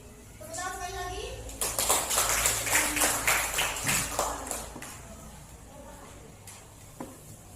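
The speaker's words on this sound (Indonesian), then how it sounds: "Tepuk tangan sekali lagi." Applause from a classroom audience at a school event, a burst of clapping rising quickly and holding for several seconds before tapering off, following a spoken voice.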